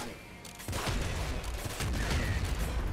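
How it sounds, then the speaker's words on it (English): Several quick explosions burst in the Nuclear Throne video game, a loud cluster of booming, crackling blasts over continuous gameplay noise. "I love the multi-explosions like that."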